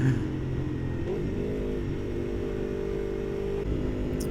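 An Aprilia RSV4 APRC motorcycle runs on a road in Islamabad, Pakistan, its engine a steady, loud drone that rises slightly early on and then holds even under rushing wind noise.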